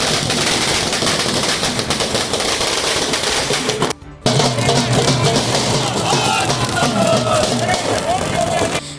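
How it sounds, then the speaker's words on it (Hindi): Firecrackers set off by party workers celebrating outside the BJP office in Beniganj, Gorakhpur, crackle in loud, dense rapid bursts, with a brief break before the popping resumes. Voices are heard amid the noise. "बीजेपी कार्यकर्ताओं ने पटाखे छोड़े और मिठाइयां बांटी।"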